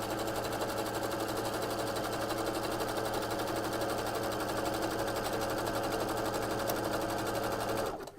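A sewing machine runs steadily for about eight seconds, stitching over metallic cording with a cording foot during holiday decorating work, then stops abruptly at the end.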